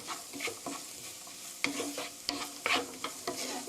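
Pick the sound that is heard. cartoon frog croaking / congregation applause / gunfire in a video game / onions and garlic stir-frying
onions and garlic stir-frying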